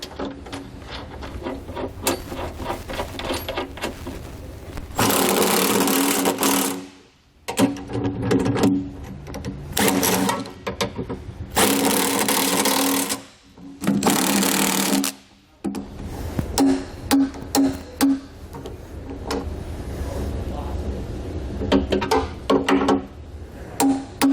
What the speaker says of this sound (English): then we'll snug them down and torque them